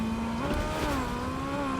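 Car driving in the video game Fortnite: a continuous engine hum with the pitch rising and settling as it moves, steady and fairly loud throughout, with no voice.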